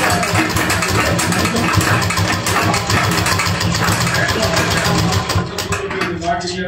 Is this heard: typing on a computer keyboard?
no